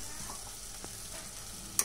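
Beef frying in a pan as it dries out gives a faint, steady sizzle with a couple of soft stirring scrapes and a sharp clink of the spoon at the end.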